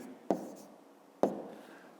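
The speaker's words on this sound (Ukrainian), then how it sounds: "Пишемо відповідь." Pen writing an answer by hand for a fifth-grade math exercise: two short, sharp strokes on paper about a second apart, quiet and close, with soft room hiss between them.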